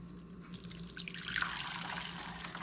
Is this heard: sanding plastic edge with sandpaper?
no